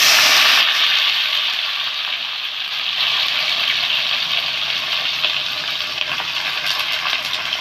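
Pumpkin stalks drop into a pan of frying ridge gourd and potatoes, sending up a sharp burst of sizzling that settles into a steady, loud crackling hiss with faint stirring.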